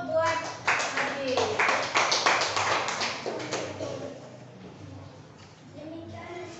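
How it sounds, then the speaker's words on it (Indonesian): Classroom applause for a student after a group presentation, a ragged burst of clapping from many hands that rises quickly, holds for a few seconds and then thins out, with voices of the class mixed in underneath. "Tepuk tangan dulu buat Hadi."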